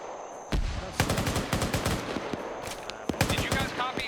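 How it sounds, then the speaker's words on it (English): Rapid bursts of automatic gunfire crackle in quick succession, loud and close, with several sharp single shots mixed in. "I still hear the gunshots from here"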